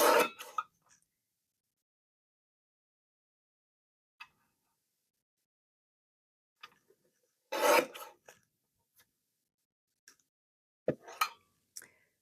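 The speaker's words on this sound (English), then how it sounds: "I have my Tim Holtz and Tonic Studios mini guillotine trimmer. I'm going to cut this rather close." A Tim Holtz Tonic Studios mini guillotine trimmer slices through card in a few short, separate scraping rasps with a soft clack, each close and brief, with near silence between them.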